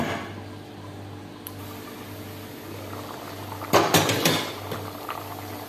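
A metal lid clatters onto a cooking pot of arroz caldo with a few sharp clanks, near and fairly loud, over a low simmering kitchen background with no talk.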